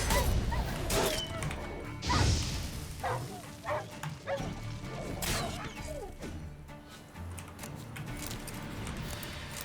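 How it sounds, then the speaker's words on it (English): Dogs in the video game The Witcher 3 bark and yip repeatedly at close range, mixed with thuds and whimpers, in a busy scene with no talk. "More dogs."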